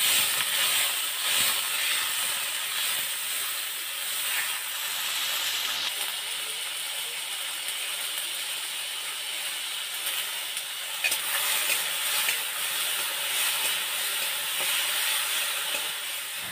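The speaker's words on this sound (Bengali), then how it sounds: "তার আগে কিন্তু সিমের বীজটাকে আমি হালকা করে ফ্রাই করে নিচ্ছি" Bean seeds fry lightly in a pan, giving off a steady, broadband sizzle and steamy hiss with occasional soft stirring scrapes throughout.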